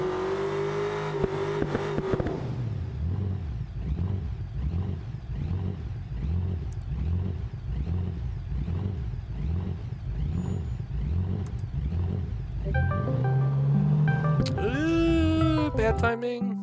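Simulated drag car in BeamNG held on a trans brake, its engine revving in a steady pulsing rhythm at high load before the launch, loud and close, with a brief burst of talk near the end.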